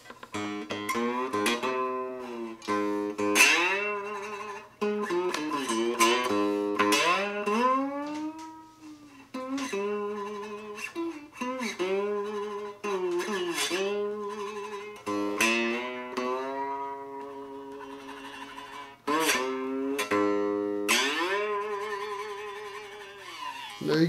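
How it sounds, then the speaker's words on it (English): A homemade one-string diddley bow guitar is played alone, plucked notes with sliding pitch bends ringing out in phrases, bright and resonant with sustained decays. "There's your one string guitar and your diddly bow, fully functional."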